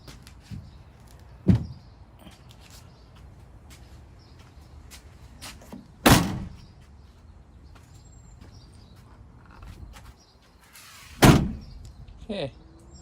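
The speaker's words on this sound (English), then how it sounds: "Okay, let's try closing the door." Campervan door with a custom bug screen fitted, shut three times at intervals, each a sharp near thud with a brief rattle, with quiet handling noise between.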